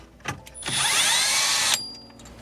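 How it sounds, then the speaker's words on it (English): Power driver with a T15 Torx bit backing out radio screws in a 2016 Land Rover Range Rover Sport dash, a short sharp whirring burst of about a second, close and loud after a couple of light clicks. "we're using a T15 Torx bit for this, and the rest of the Torx screws"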